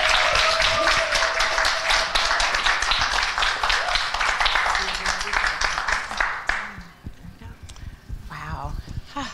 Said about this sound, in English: If you'd all give her a huge round of applause and welcome.